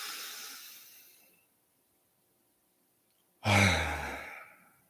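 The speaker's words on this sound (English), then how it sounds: "filling up the entirety of the stomach and the chest and releasing all at once" A deep breath filling the stomach and chest is let go all at once, heard as a long fading exhale, a pause of silence, then a sudden strong rush of breath, close and clear.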